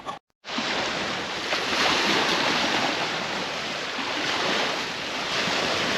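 Steady broadband rush of river water flowing along a beach at Belle Isle State Park, loud and continuous with some wind noise on the microphone, no voices.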